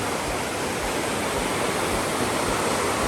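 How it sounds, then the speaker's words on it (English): A waterfall and rushing river near Ushguli pour out a loud, dense, continuous roar of white water that fills the whole scene evenly. "But I wanted to see this waterfall,"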